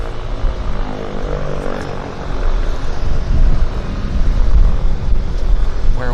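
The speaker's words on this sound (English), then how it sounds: "We've got an aircraft pulling off." A propeller floatplane pulls off at Vancouver Harbour, its engine droning close and then swelling louder and rougher as it powers away across the water.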